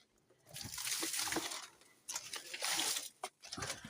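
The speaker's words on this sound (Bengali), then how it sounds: "কলা গাছেও জল দিয়ে দিলাম।" Water poured onto a banana plant during garden watering, heard as two sustained splashing, sloshing bursts with a short pause between them and a brief trickle at the end.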